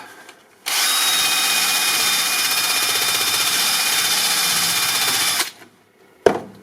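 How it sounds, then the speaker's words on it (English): A rotary tool fitted with a cone bit grinding during car interior work, a loud, steady high-pitched whine that starts abruptly, holds for about five seconds, then cuts off, followed by a brief knock. "And I go over with the cone bit."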